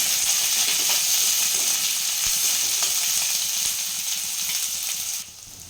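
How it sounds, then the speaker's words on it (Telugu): Onions and green chillies sizzle and fry steadily in a few spoons of hot oil for a goat head curry, a dense close crackle that drops away abruptly near the end, with no talking. "2 లేదా 3 టీ స్పూన్ల ఆయిల్ వేసి అది కాగాక ముందుగా కట్ చేసి పెట్టుకున్న ఆనియన్స్, పచ్చిమిర్చి వేసుకొని అది కొంచెం వేగాక"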